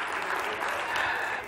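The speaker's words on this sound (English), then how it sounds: "Y'all ain't got to clap." A brief burst of audience clapping during a teacher's inspirational talk, a dense wash of hands that holds steady for about a second and a half.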